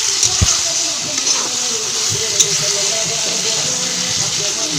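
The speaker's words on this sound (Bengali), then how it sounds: "ভালো করে আমি একটু কষিয়েছি, তারপরে একটু চিনি দিয়ে নিচ্ছি, আর একটু কষাবো। এটাকে একটু ভাজা ভাজা স্টাইলে করবো।" Chicken pieces frying and stir-cooking in oil with spices and a little sugar, a steady close sizzle with occasional spoon scrapes and stirring knocks throughout.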